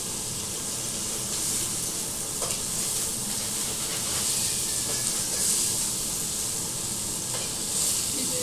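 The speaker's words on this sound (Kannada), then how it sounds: "ಜೀರಾ ಫ್ರೈ ಆಗಬೇಕು." Steady hiss and sizzle of cumin seeds frying in hot oil in a pan, a continuous bright crackle at an even level, close by with no talking over it.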